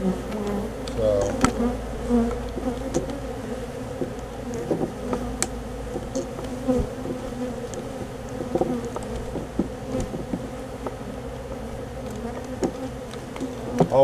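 Bees swarming around a bird house hive outdoors, a steady close, layered buzzing that holds throughout, with occasional louder passes of individual insects flying near.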